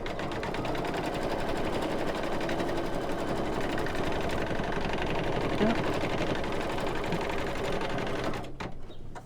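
An embroidery machine stitches the outline of a stuffed toy, a fast steady mechanical needle chatter with a low motor hum, close and continuous before cutting off near the end.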